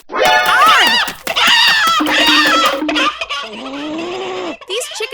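Cartoonish fowl squawking and gobbling from chickens raiding a garden, loud close harmonic calls in rapid bursts with sustained squeals, a voice-like quality throughout.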